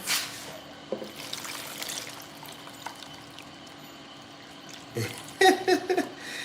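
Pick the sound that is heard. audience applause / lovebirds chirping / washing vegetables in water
washing vegetables in water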